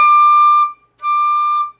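Two short high flute notes are overblown using the middle D fingering, each held under a second with a brief gap between them, thin and shrill in tone, close and loud with no voices.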